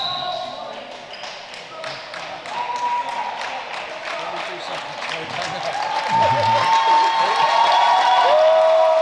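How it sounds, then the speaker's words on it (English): Crowd applause in a school gym during a girls' high school basketball game, moderate and steady with cheering, overlapping an announcer's voice and squeaking sneakers, swelling louder toward the end. "Round of applause for Isabella Gilmore"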